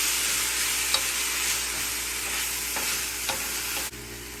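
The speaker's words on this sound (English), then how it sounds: "Saute it a bit." Food sizzles steadily while it sautés in a pan before smoked salmon and cloud eggs are prepared, making a continuous close hiss with a few faint clicks of stirring.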